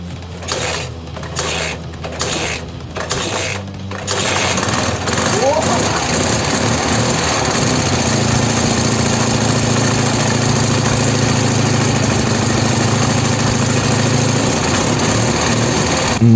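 A few sharp kick attempts, then an old Ural motorcycle engine, unused for ten years, catches and settles into a loud, steady rattling idle that runs on continuously.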